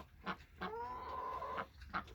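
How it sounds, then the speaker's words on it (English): A farm hen laying an egg clucks faintly in a rhythmic series of short clucks around one drawn-out, wavering call, heard from a distance over low background noise. "Looks like she's laying an egg."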